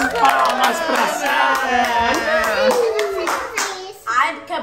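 A small group claps by hand in a home setting during a playful children's ballet dance, the claps quick and uneven under excited children's voices and chatter.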